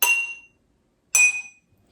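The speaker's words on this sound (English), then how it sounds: "I put even more water in this glass. And it did make the pitch a little bit lower." A drinking glass partly filled with water struck twice, each strike ringing out as a clear, bright musical tone that decays over about half a second, with a pause between the two.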